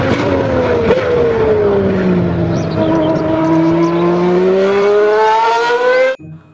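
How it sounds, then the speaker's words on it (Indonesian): A toy Formula One race car gives off a steady, high whining engine rev that slides gently in pitch, loud and close, running alone with no talk, then cutting off abruptly near the end. "Di sini ada mobil Formula"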